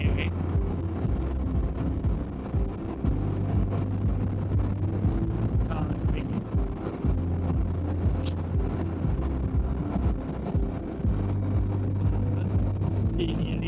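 A Yezdi Adventure motorcycle at speed on a long solo highway ride, with a steady engine drone and heavy wind buffeting on the microphone, while a rider talks loudly over it.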